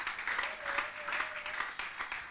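Church congregation applauding and cheering together after a call to acclaim the word of God, a dense steady wash of clapping lasting a couple of seconds with a faint sustained tone beneath.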